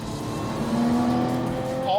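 A 2021 Lotus Evora GT engine drones at high revs and rises in pitch, heard steadily from inside the car under someone talking.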